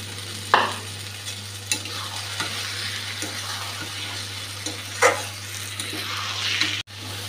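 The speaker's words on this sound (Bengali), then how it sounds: "পুরো ডিমটা বেগুনের সঙ্গে মিলিয়ে নিয়েছি, ভাজা ভাজা হয়ে যাচ্ছে" Egg and eggplant frying together in a pan, with a steady close sizzle and occasional brief scrapes of stirring.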